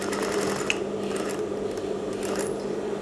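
A sewing machine stitches baju kurung fabric, its steady mechanical whirr running continuously for a few seconds with a faint click partway through.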